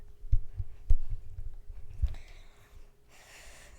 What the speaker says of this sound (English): Listen to my heart.